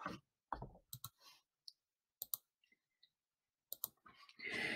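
Sharp, sparse computer mouse clicks sound in quick single and double taps on a quiet desk, with gaps of silence between them.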